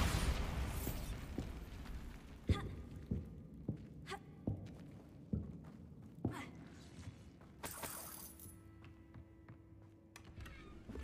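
Bombarda blasting spell explosions in Hogwarts Legacy, a run of sharp repeated bursts and pops with crackling debris, spaced every second or so, plus a sustained tone near the end; no talking.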